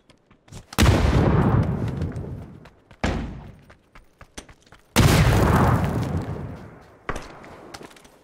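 Gunfire in the battle royale video game PUBG: two big booming shots with long decaying tails, each followed by sharper, smaller reports and quick clicks, loud and near, no talk.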